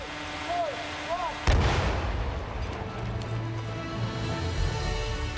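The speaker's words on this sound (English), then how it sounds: "We're trying to create an explosion like is in the director's mind." A special-effects explosion of a carriage on a Zorro movie set goes off as a sudden loud boom, followed by a long rumbling, crackling tail of debris and echo.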